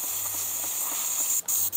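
An airbrush spraying water through itself to clean it out, a continuous close, loud hissing spray that cuts off briefly twice near the end.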